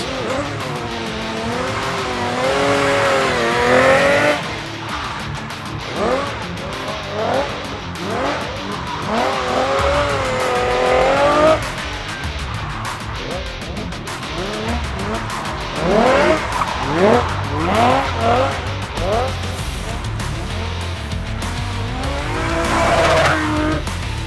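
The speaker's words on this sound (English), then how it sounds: "This precision driving in such a crazy car is almost like ballet in a way." A powerful performance car driven in precise stunt maneuvers, with loud, repeated tire squeals and skids rising and falling over a revving engine, continuous and close throughout.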